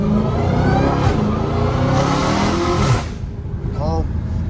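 A Dodge Hellcat Redeye with a mid muffler accelerates hard on the street, its engine roaring loud and broad before easing off, with brief speech near the end.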